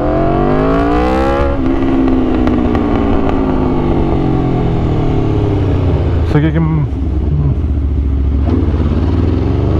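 Aprilia RSV4 superbike engine roaring loudly and steadily while riding, with rising and falling revs and a sharp gear shift midway, under someone talking throughout.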